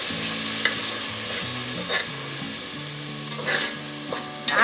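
Chicken biryani masala with yogurt stirred and frying in a pan, steady sizzle under repeated scraping strokes of a spoon, close and fairly loud throughout with no talking.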